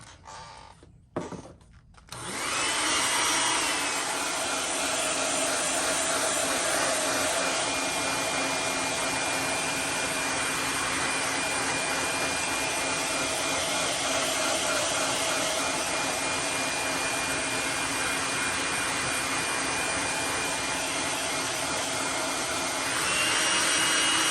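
A heat gun heat-sets fresh paint on a JDM Luxxe Avenge 80 fishing lure, starting with a brief click and sputter, then a steady loud blowing whoosh that runs unbroken for over twenty seconds, close to the microphone, with no talking.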